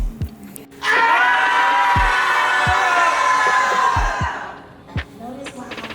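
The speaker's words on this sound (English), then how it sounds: "We're going to wail for our communities." A group lets out a sustained loud holler and wail together for a few seconds, with scattered thumps before and after.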